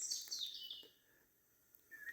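Birds call in a Maplewood State Park woodland after rain, a few thin, high chirps and a descending trill up close at first, then a quiet gap before another faint call.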